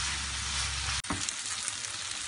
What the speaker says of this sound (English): Now I'm shallow frying the tofu.